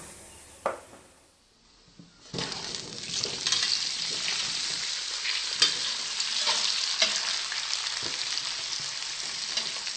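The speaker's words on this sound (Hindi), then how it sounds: "थोड़ी सी लाल मिर्च डालेंगे 1/4 चम्मच और अच्छे से भून लेंगे मसाले और साथ ही डाल देंगे आम" Spices and mango stir-fry in a pan with a tap or two, then a sudden loud, steady sizzle as ingredients hit the hot oil, with scraping stirs running through it.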